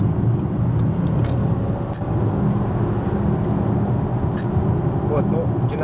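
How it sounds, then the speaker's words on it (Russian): A car passes by outside while an Audi Q7 55 TFSI e quattro plug-in hybrid sits nearby, a steady broadband road rumble swelling faintly then easing under continuous low engine and cabin noise, with a person talking over it. "Вот только машина проехала"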